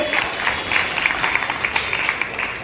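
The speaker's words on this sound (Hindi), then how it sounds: "जोरदार तालियों से" A burst of applause from a crowd at an Indian election rally, steady dense clapping throughout.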